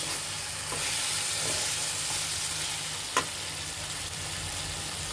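Pointed gourd is stirred and fried in masala with chicken in a pan, giving a continuous close sizzle with occasional scraping stir strokes and one sharp clink.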